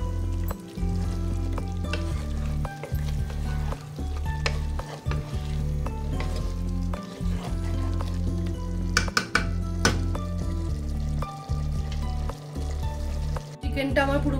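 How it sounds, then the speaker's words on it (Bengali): Fried potato pieces tossed into a pan of chicken curry sizzle steadily while a utensil stirs and scrapes the pot in repeated strokes, with a few metallic clinks; close and continuous with no talk. "এবার এই ভেজে রাখা আলুগুলো আমি দিয়ে দিলাম এর মধ্যে। একটু ভালোভাবে নেড়ে নেব।"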